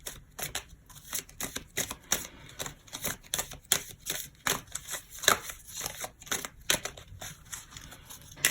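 Tarot cards are riffled and shuffled by hand in quick uneven bursts of crisp flutters and slaps, close up and fairly quiet, with no voices.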